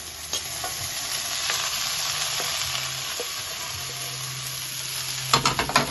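Chicken fried rice sizzling in a hot pan, a continuous close hiss of frying with occasional light scrapes and clatters of stirring, ending in a few louder knocks.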